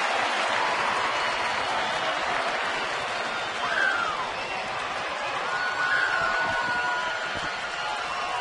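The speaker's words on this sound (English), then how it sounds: "Listen to this crowd at Turner Field as Wagner's 1 out away." A baseball crowd at Turner Field in Atlanta roars with cheering and applause late in a Mets versus Braves game, a broad, steady wash of noise with brief swells, while a commentator talks over it.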